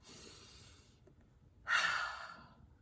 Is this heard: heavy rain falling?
no